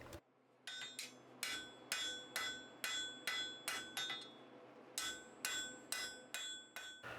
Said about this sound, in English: when I'm upsetting, I try to use the lightest hammer that I can